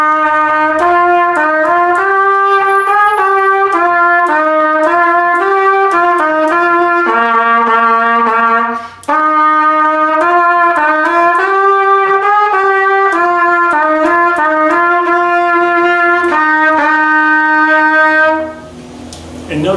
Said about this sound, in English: So, the melody of letter A is simply the melody of Trumpet Voluntary, and it sounds like this.